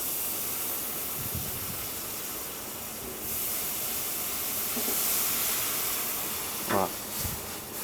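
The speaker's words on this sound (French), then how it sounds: "On va venir déglacer avec la marinade un peu." Seared scallops in a hot pan hiss and steam loudly as marinade is poured in to deglaze, a broad continuous sizzle that swells midway, with a few brief knocks and scrapes near the end.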